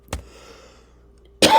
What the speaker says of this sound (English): Momentary coughing fit there.